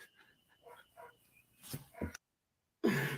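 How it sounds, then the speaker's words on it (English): A dog barks in the distance, faint short tonal bursts in a quick series behind a voice-call line. The sound cuts to silence before a loud burst of noise returns. "We just started hearing the dog over there"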